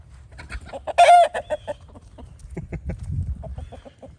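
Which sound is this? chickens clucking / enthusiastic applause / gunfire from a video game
chickens clucking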